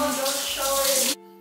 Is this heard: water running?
yes